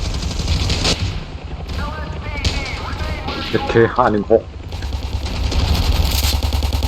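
Rapid bursts of machine gun fire crackle over a dense, busy Ravenfield game soundscape of police storming a hospital, with voices talking over the action throughout.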